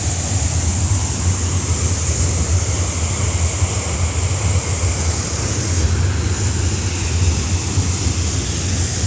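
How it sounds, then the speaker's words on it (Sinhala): Water pours down a waterfall in a continuous, loud, broad rush that holds steady from start to finish, with no voices heard. "අර ඇල්ල බලන්න ඇල්ල පල්ලේ වැටෙන විදිහ වතුර"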